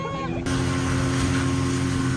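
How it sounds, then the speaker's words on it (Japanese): A speeding motorboat carries passengers toward the Malaysian jungle, its engine roar kicking in abruptly after a brief quieter start and then holding steady, loud and close, with rushing water and wind noise throughout. "ボートがスタートしたねこれでジャングルに行くらしい"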